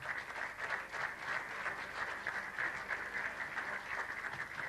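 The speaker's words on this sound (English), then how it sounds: "if we would all stand and give them a deserved round of applause" Audience at a 1996 tribute event gives sustained applause for the 1971 National League-winning Limerick hurling team, a steady dense clapping throughout with no talk over it.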